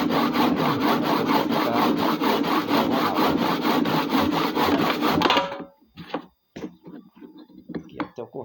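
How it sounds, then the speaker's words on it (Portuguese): A handsaw cuts a plaster moulding at a 45-degree angle with rapid, even back-and-forth rasping strokes for about five seconds. The sawing then stops, and a voice speaks in the quieter pause. "Você cortando com o serrote assim."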